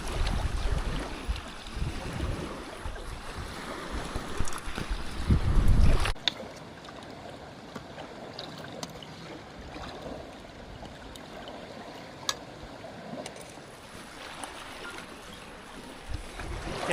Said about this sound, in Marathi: ह्या बाजूला बघा किती भारी पाणी वाहत आहे.